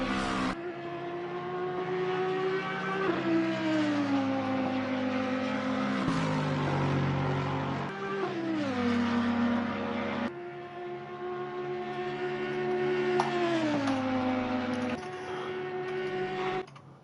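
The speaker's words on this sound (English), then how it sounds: "It's Nexus, the lead GT3 car, who's about to start his first lap here." A GT3 race car engine screams steadily at Spa, its pitch climbing through the gears and dropping at each shift, repeating over a long continuous run.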